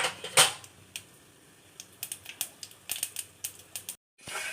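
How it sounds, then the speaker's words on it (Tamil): Mustard seeds splutter in hot oil for tempering, a scattered run of sharp crackling pops, irregular and close, with a brief silent gap before the sizzle resumes. "இந்த எண்ணெய் கடுகு பொரிஞ்சிச்சு"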